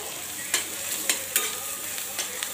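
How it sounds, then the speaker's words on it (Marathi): Spices with a spoonful of chili powder fry in hot oil for an egg curry, a constant sizzle broken by repeated sharp scrapes and clicks of a spoon against the pan. "आपले मसाले छान असे तेलामध्ये परतून घ्यायचे आहे।"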